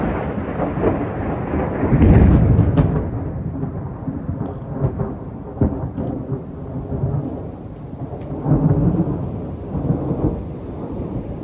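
Heavy rain pours steadily through a thunderstorm, with rolling thunder swelling loudly early on and again near the end; no voices.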